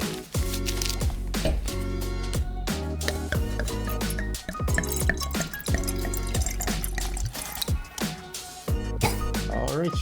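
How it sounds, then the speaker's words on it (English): White wine being poured and dribbled into a glass, a loud, close, continuous liquid trickle with uneven splashes and glugs while people talk nearby. "The wine has been poured and dribbled."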